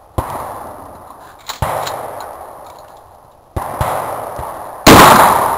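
Four sharp gunshots ring out at an outdoor shooting range, each a loud crack with a trailing echo, spaced irregularly over a few seconds.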